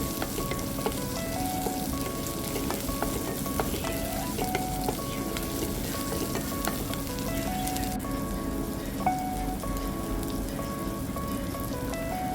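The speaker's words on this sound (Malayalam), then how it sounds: "ചെറിയുള്ളി എടുത്ത് നന്നായിട്ട് വഴറ്റിയെടുക്കാം." Shallots sautéing in a pan for a carrot and lentil curry, a steady, even sizzle of frying running throughout with light stirring, no voices present.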